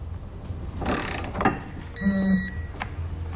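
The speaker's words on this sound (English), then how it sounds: "you're gonna come back with a torque wrench, and you're gonna torque all the hardware down" Torque wrench tightening Draw-Tite Sportframe trailer hitch hardware on a 2017 Toyota: a close rasping ratchet burst and a sharp click, then a brief steady tonal beep, with no talking.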